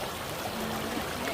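A strong river current at Tanguar Haor rushes past in a steady, moderately loud wash of flowing water, continuous and unbroken with no voices.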